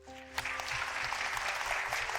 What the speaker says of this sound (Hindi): आज की तालियां मेरे लिए नहीं, आप लोग के लिए होनी चाहिए